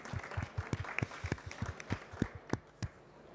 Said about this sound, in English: can we give a round of applause to our speakers?